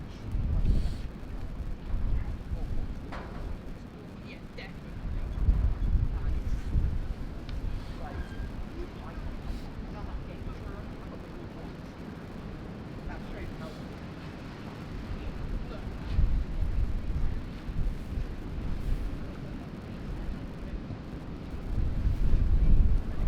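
Strong wind buffets the microphone at a St Austell versus Bridgwater & Albion rugby match, a continuous low roar that swells in gusts under ongoing commentary.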